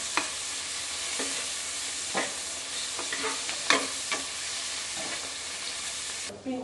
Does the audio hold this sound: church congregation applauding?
no